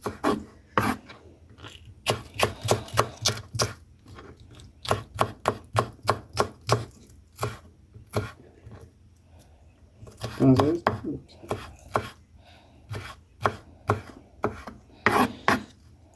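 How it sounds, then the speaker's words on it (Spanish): A knife cuts an onion into thin julienne strips on a board, with quick bursts of crisp, rhythmic chops broken by short pauses and a brief moment of voice in the middle. "Unas pequeñas julianas para la cebolla."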